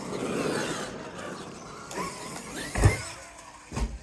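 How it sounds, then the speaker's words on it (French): A Traxxas XRT RC truggy's electric motor whines and revs in short bursts as it drives, with a couple of thumps from bumps or landings, moderately close and without speech. "Bon allez, c'est parti, on démarre la voiture."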